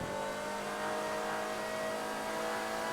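Race car engine in GTA 5 drones steadily at high revs down a straight, with sustained tonal engine whine and no break, fairly faint and uninterrupted by talk.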